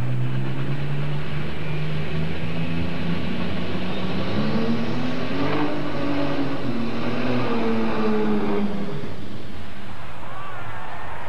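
Old tractor engine pulling at a tractor pull during a national farm machinery show, a loud continuous drone whose pitch climbs and falls as it strains, under crowd and arena noise.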